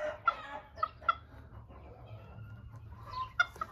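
Serama ornamental bantam chickens cluck outdoors in a garden, with several short, sharp clucks spread across the stretch over a low background hum.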